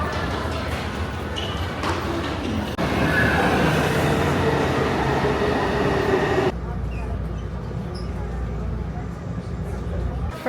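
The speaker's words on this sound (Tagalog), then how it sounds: "Ito na yung Jantan Station na MRT red line" A Taipei MRT Red Line train rumbles steadily at Jiantan Station, its wheels and motors making a loud, continuous drone. Partway through, the tone drops into a deeper low hum as the train shifts along the track.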